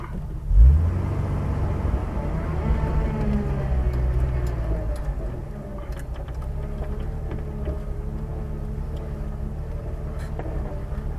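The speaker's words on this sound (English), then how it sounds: "the transmission's a little moany in reverse" An off-road vehicle backs up on a trail, its engine rumbling low and steady while the transmission gives a faint moaning whine in reverse, close and continuous throughout.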